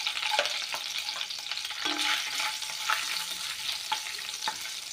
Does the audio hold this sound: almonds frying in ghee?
yes